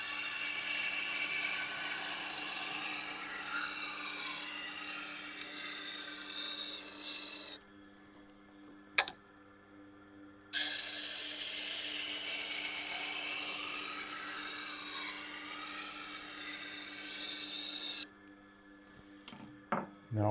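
Knife blade drawn across a sharpening wheel in repeated passes, a steady close raspy grinding that runs continuously, pauses twice briefly, then resumes.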